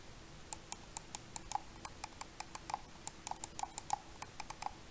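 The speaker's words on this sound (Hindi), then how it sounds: "एंड माउस में आप क्लिक की साउंड सुन सकते हैं" Button clicks from an Arctic Fox RGB gaming mouse, a rapid run of sharp, crisp close-up ticks at an irregular, quick rhythm, heard alone against a quiet background.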